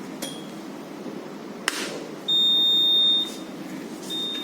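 A hotline fluid warmer machine gives a short electronic beep as it powers on at the press of its button, a steady tone of about a second that is loud and close above a quiet room hum, with fainter chirps before and after.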